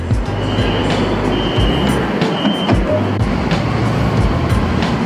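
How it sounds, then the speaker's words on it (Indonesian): A steady, loud rumble fills the inside of an LRT/MRT metro train car in Kuala Lumpur. Rolling noise and faint tonal whines continue throughout, and no voices are heard. "gue kembali naik LRT, kemudian nyambung MRT ke sana"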